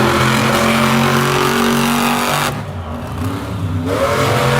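Monster trucks Zombie and Gravedigger racing in a stadium at Monster Jam El Paso 2022: loud, continuous engine roar with revving that dips briefly midway and then climbs again.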